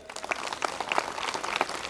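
An audience at a school Annual Day ceremony claps together, producing a busy patter of many distinct hand claps at moderate distance that holds steady for a couple of seconds.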